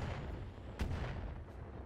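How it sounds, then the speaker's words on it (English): Artillery fire in the mech combat game Battletech: a single muffled boom rises out of a steady low rumble of battle noise, with a fainter thud shortly after. "I think somebody's got artillery."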